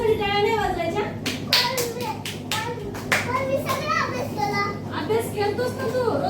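Several sharp hand claps for a child during a simple home addition lesson, bunched together in the middle and mixed with a voice and adult speech.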